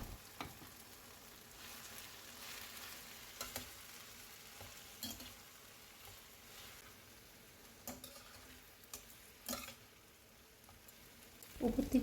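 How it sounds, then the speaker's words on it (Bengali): Cauliflower is mixed with spices in a frying pan for gobi manchurian, giving faint sizzling, soft scrapes and several sharp clinks of a utensil against the pan over about twelve quiet seconds. "1-2 মিনিট কষানোর পর এবার সব ফুলকপিগুলো মশলার সঙ্গে ফুলকপিগুলো ভালো করে মিশিয়ে নেব।"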